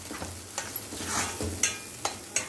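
Dosa chutney ingredients sautéing in a little oil, a soft continuous sizzle broken by several short scraping stirs of a spoon against the pan, close and moderately loud.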